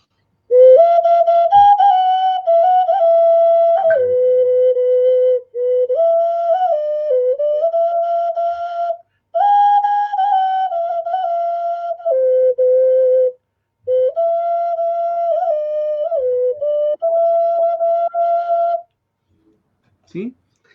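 A clear, steady clay-style handmade whistle plays a sequence of sustained tones at shifting pitches, with short pauses between phrases, loud and close.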